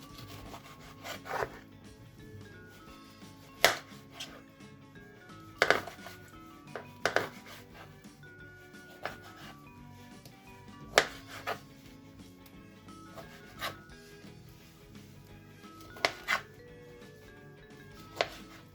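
Knife chopping oranges and lemons on a wooden board, with irregular sharp thuds and scraping between cuts, close up and without talk.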